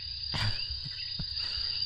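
Cricket chirping sound effect played during a talk show, a steady high-pitched insect trill running throughout the short stretch, with a few low thumps beneath it and no talk.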